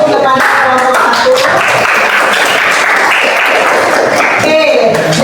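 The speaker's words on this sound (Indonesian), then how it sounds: "kita beri tepuk tangan terlebih dahulu kepada kelompok 1" Loud classroom applause for a student group in a math lesson, a steady burst of close clapping from many hands, with a few voices over it.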